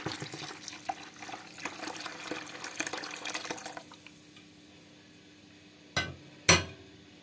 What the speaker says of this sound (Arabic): برضه هضيف عليه المية اللي هي كنت سلقة فيها قشر الاستفندي